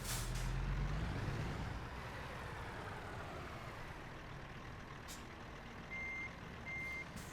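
An articulated lorry in American Truck Simulator backs into a parking bay, its engine rumbling steadily with a hiss of air brakes early on, then a pair of short reversing beeps sounding near the end.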